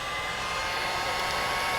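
A heat gun blows steadily at close range, warming shrink wrap around the edge of a sublimation tumbler, a constant loud airy whoosh with no talking.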